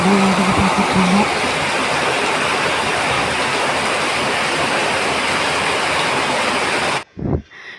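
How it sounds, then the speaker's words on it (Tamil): Heavy rain pours down steadily outside a home, a loud, dense hiss that lasts several seconds before cutting off abruptly, followed by a couple of brief thumps. "கொஞ்ச நேரம் மழை எப்படி வருது பார்த்துட்ருந்தோம்."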